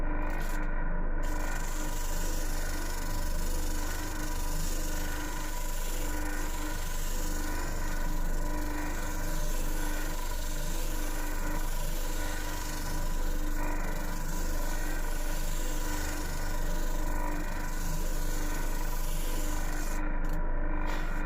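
Machine sander working steadily over wooden speaker baffles for mini monitors, a continuous close rasping grind that runs unbroken throughout, with brief pauses only at the very start and end.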